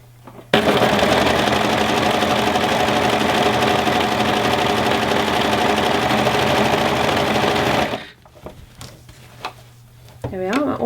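A sewing machine stitching elastic onto fabric runs in one loud, steady whirring burst for about seven seconds, then stops, followed by quieter handling noises and brief talk.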